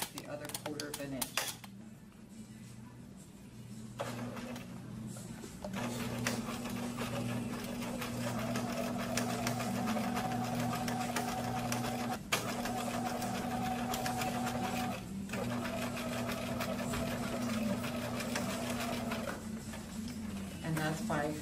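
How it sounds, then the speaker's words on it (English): A sewing machine stitching a French seam in apparel fabric, its motor running as a steady mid-pitched whir for long stretches, with brief pauses and restarts. "again sew the width of the presser foot the other 1/4 inch"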